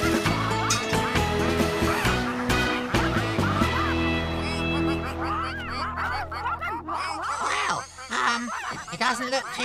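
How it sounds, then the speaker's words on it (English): Ducks quack and honk in a Bob the Builder cartoon, a busy run of nasal calls mixed with music and other voices across the whole clip. "those ducks don't look very happy"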